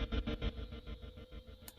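Processed cinematic guitar chopped into short sequenced stabs, with a sweeping flange effect giving a swirling, metallic shimmer to the rhythmic pulses; quiet and close, no voices.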